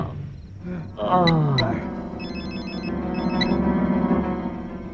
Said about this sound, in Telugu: అరే ఖాన్ ఆ శివగానికి ఫోన్ కలపరా.